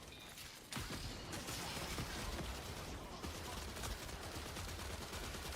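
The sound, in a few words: gunfire in the video game Destiny 2: The Final Shape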